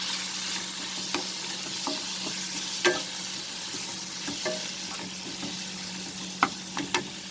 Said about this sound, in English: Now we will add the tomatoes, because these dry spices needs to be cooked properly.